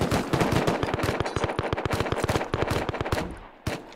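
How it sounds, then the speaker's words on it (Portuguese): Rapid automatic gunfire in an online multiplayer shooter during a clan fight, a fast loud burst of repeated shots that runs nearly unbroken, pauses briefly, then one last shot near the end. "As balas estão a passar assim."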